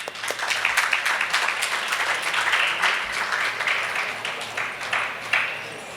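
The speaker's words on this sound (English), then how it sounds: "Please let us thank all the mentors and speakers with a good round of applause." A conference audience gives a round of applause for mentors and speakers, dense hand clapping with scattered sharper claps, sustained and fairly close throughout.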